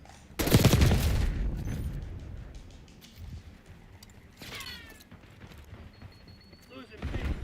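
Turret machine gun fire in Call of Duty Black Ops 6: a loud, close burst of rapid automatic shots at the start, quieter battle noise and an announcer voice in between, then another burst at the end.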